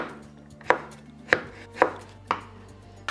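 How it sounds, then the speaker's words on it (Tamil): A knife slices through a large raw mango, cutting it into thin pieces, with four crisp, evenly spaced chops against a board, loud and close, and no voices. "கட் பண்ணிவிட்டு இதை நாம் மெலிசாக துண்டு போட்டுக்கலாம்"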